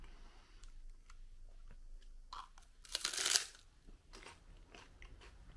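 Crisp crunching and chewing of spicy Triple M seaweed sticks, close to the mic, with a sharp loud bite in the middle among quieter munching.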